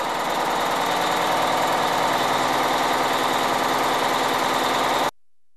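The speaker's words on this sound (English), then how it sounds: "Start the engine and operate it at rated speed and no load." A Cummins diesel engine runs at rated speed with no load, a loud, even, buzzing drone holding steady for about five seconds before cutting off abruptly into silence.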